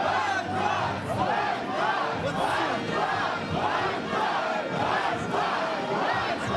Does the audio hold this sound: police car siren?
no